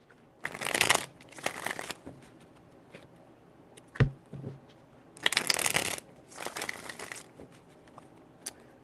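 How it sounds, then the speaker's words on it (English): Tarot cards being shuffled by hand, two long riffling bursts near the start and two more later, separated by a few soft taps and handling noises, close and fairly quiet with no talking. "Five shuffles."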